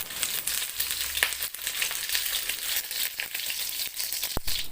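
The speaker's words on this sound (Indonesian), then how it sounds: "lalu kita goreng ayam hingga berubah warna menjadi kuning kecoklatan" Pieces of chicken fry in hot oil with a steady, close sizzle and crackle, broken by a sharp clatter near the end.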